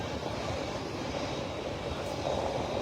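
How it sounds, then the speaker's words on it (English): A large Ethiopian Airlines airliner's engines give a steady, broad roar as it departs, holding at an even level throughout, with no voices. "Ethiopia Airlines is such a giant airplane"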